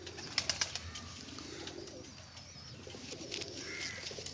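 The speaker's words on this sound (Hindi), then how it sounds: "ये कबूतर है" A pigeon coos softly at a distance, with a few sharp clicks early on and faint chirps over a low, steady background.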